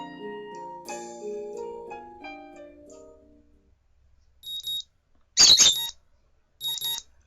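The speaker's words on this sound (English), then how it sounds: "I don't know why I keep the early alarm on anymore, but it wakes me up to the next morning just the same." An alarm clock in the Katawa Shoujo video game beeps in three short, sharp bursts, the last two close together, after a stretch of soft melodic game music.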